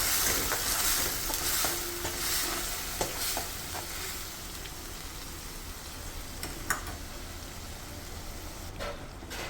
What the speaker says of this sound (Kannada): ಮಸಾಲೆ ಚೆನ್ನಾಗಿ ಫ್ರೈ ಮಾಡ್ಕೊಳ್ಳೋಣ ಅದರಲ್ಲಿ ಸ್ವಲ್ಪ ಹಸಿ ವಾಸನೆ ಹೋಗೋವರೆಗೂ ಫ್ರೈ ಮಾಡ್ಕೊಳ್ಳೋದು